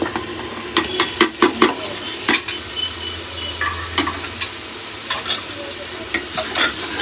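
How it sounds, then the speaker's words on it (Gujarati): Green onion is stirred into a sizzling frying pan for a Gujarati winter dish of green chickpeas, with green garlic also going in. The frying hiss stays steady while a utensil scrapes and clacks in sharp bursts up close, and nobody speaks. "હવે નાખશું આપણે લીલી ડુંગળી"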